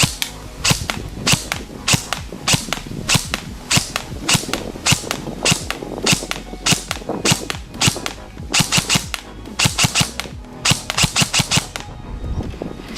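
A Zion Arms PW9 Mod.1 airsoft AEG rifle fires a long series of sharp, close snapping shots, mostly single and paired with a few quick clusters, loud and steady over a low background hiss, with no talking.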